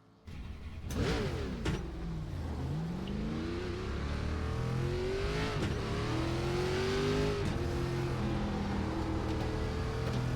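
A race car engine in iRacing's ARCA series howls through practice laps, revving and shifting with rising and falling pitch, loud and continuous throughout with no talking.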